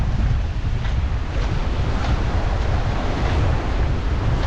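Surf churns and rushes continuously, mixed with heavy wind buffeting the microphone, loud and close with no voices.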